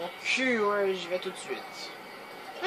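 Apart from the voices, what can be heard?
No everyday noises stand out.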